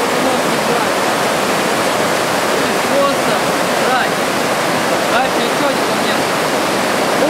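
Steady, loud rush of a fast-flowing mountain river in the Subpolar Urals filling the whole clip, continuous and close, with faint occasional chirps above the churning.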